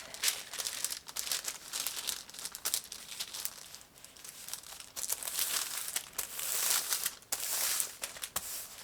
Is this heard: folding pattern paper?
yes